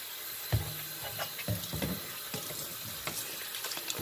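Water pours and splashes into a pressure cooker holding mixed chana and mash lentils for a dhaba-style dal, in short bursts with soft thuds, close and moderately loud, with no talk.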